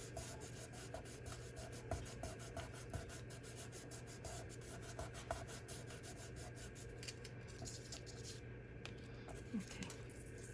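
White paint being rubbed into a craft card with a steady, soft scraping rasp that continues throughout, close and fairly quiet, with faint household noise in the background.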